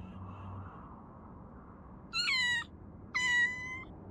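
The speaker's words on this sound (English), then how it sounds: "A cat?" Two clear cat meows from a cat in the No More Heroes video game, each about half a second long and separated by a short pause, standing out loudly over a quiet low game background hum.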